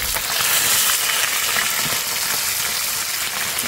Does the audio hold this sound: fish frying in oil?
yes